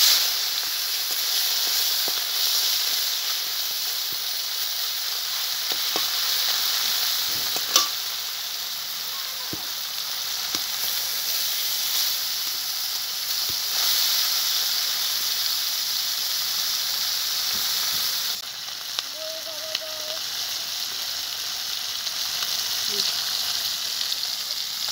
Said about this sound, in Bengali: এখন আমি মাছটাকে ভেজে নিচ্ছি।